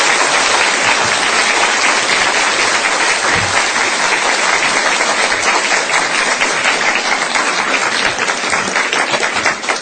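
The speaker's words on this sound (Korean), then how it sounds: "우리 권사님 뜨거운 박수로 환영해 주시기 바랍니다." A church congregation gives warm, sustained applause to welcome a deaconess, the actress Kim Ja-ok, as she comes up to share her testimony; dense, even clapping fills the whole stretch with no voices over it.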